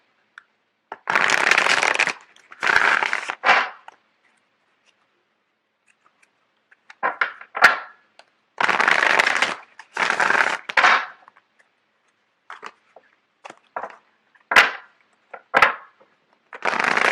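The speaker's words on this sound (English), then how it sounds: "Just give me a second while I get the cards shuffled out." Tarot cards are shuffled in several bursts of riffling and flicking, nearby and crisp, with pauses and scattered light taps between the rounds.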